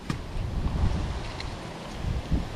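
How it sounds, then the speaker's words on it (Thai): Strong storm wind gusting across open rice paddy field edges, a loud continuous rumbling roar buffeting the microphone, rising in a couple of heavier gusts, with no voices. "โอ้ลมแรงนะครับเนี่ยพายุ"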